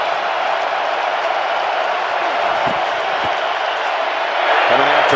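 A football stadium crowd roars steadily through an NFL game between the Bears and Lions, a dense sustained wall of cheering that swells slightly near the end, with a voice surfacing briefly.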